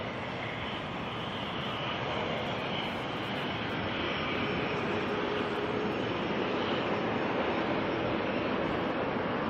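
Air New Zealand Boeing 777, flight NZ24, departing Auckland Airport: a steady, loud jet engine roar that holds broadband and unbroken throughout, with a faint high whine riding on top and no voices.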